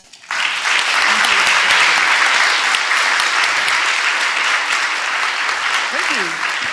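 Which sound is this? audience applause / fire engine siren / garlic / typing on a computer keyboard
audience applause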